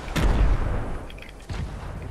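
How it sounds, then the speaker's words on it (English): A pair of grenade explosions thrown against walls in Fortnite, with a loud close blast followed about a second later by a second, somewhat softer boom. "I'm grenading the walls by Lucas."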